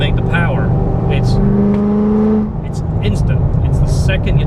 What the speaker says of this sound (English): The sound, the acceleration, the feel, and again, being supercharged, it makes all the power right off idle.